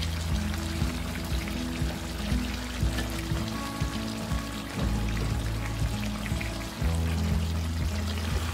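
Tinda sabzi (apple gourd curry) cooking in a pan as two medium tomatoes are added: a steady close sizzling and bubbling with soft shifting and scraping, continuous and fairly loud.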